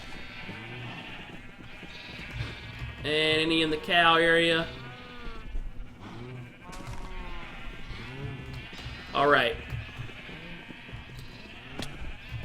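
Minecraft sheep bleat in two loud, wavering bursts among gameplay sounds, with someone talking over the scene and a later short bleat rising again.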